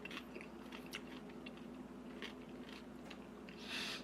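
Close, quiet chewing of a tuna sandwich topped with salted crunchy chips, with soft irregular crunches and bites over a faint background hum.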